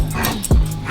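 A new puppy lets out a single short yip or bark in a home, near and loud against faint background noise.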